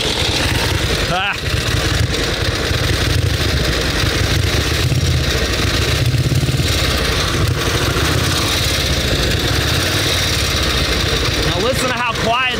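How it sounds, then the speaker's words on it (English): A vintage motorcycle engine idles steadily and fairly loudly, with a low rumbling throb that runs throughout alongside constant background noise and some voices. "Now listen to how quiet this motor is, Steve."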